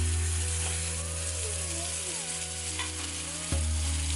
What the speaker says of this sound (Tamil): ஸோ இப்போ தக்காளி போடுறோம்.